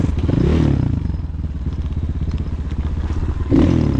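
A Chinese Rottor Bronx 300 enduro motorcycle is ridden toward a hill, its engine a close, steady, throbbing putter with a brief rise in revs near the end, along with faint rattles from the bike.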